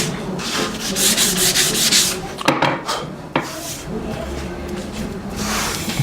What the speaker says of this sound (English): you want to really gently touch it with the sandpaper so you don't press the fibers down again